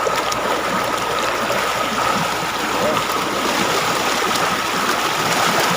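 A river's rushing water flows steadily and loudly throughout, a continuous broadband roar like a stream, with faint voices underneath.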